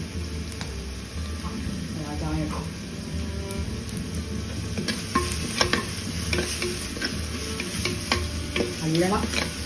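Green chillies stirred and frying in a pan for a Kerala-style fish head curry, a steady sizzle with scraping stirs throughout and a voice speaking briefly over it.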